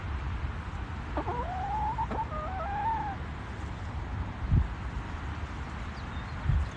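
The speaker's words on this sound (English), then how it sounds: "here, chickens. Show everybody your chickenness." Chickens cluck close by, with a few sharp rising calls early on and scattered soft clucks and thumps afterward, all over a constant low background hum.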